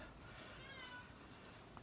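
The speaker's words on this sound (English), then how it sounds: "There is a very hungry cat scratching at the door." A hungry cat meows at a door indoors: faint, short meows heard alone at low level, with no clear scratching.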